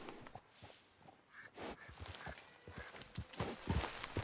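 Horse hooves galloping in Red Dead Redemption 2, a steady run of rhythmic clip-clops close up, with a brief whinny-like note and some louder hoof strikes toward the end.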